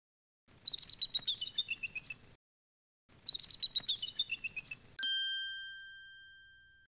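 A boreal owl's chirping call from the Molly of Denali game plays twice as a quick trilling run of notes, followed by a bright chime that rings on and slowly fades.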